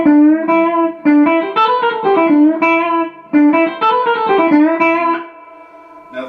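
Distorted electric guitar playing a lick, loud sustained notes with fast runs, bends and an octave bend, heard alone over two phrases.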